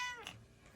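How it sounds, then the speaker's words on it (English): A talkative house cat gives a single short meow, close and fairly faint, heard alone indoors. "That's my cat. He is very talkative."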